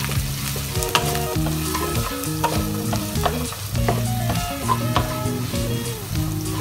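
Bitter gourd (karela) sizzling in a pan as salt, coriander, turmeric and amchur powder are stirred in, continuous frying hiss with frequent spoon scrapes and taps, close and alone.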